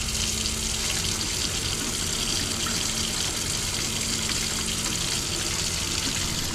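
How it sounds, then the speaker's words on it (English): A household tap runs at decent pressure, giving a steady, loud broadband rush of water that stays constant for the whole stretch with no voices over it. "I still get decent water pressure."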